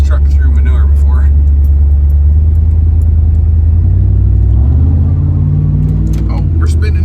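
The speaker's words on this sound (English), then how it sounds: "This is about as deep as I've driven this truck through manure before." A truck churns through deep manure with a loud, steady low engine rumble that shifts pitch partway as it strains, under continuous talk.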